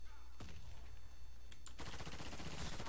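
Gunfire in the online shooter Warface: a sharp single shot, a couple of brief cracks, then a dense burst of rapid automatic fire, loud and close.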